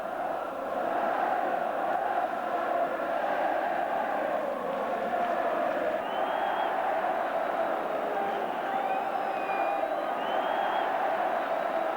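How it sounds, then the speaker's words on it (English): A huge football stadium crowd at Rangers v St Mirren roars continuously, a dense wall of cheering that stays loud and steady throughout, with a few high whistles cutting through. "As the stadium erupts in sound"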